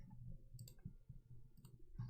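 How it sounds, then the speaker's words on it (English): A computer mouse gives a few faint, scattered clicks under a low background hum. "I keep clicking out of that."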